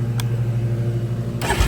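A Yamaha Raptor 700R ATV engine idles steadily with a low, even throb, then a brief sharper burst of noise near the end.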